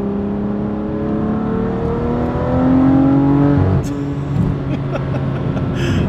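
A tuned BMW M3 F80 with a Bootmod3 stage 2 tune and an OTS burble exhaust setup revs up in a rising engine drone that swells, then falls away into crackling pops, loud and close.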